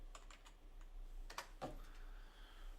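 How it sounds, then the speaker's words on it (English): Quiet typing on a computer keyboard, scattered clicks and taps arriving in short irregular bursts over a faint hum, with no talking. "I'm fat fingering the keyboard today"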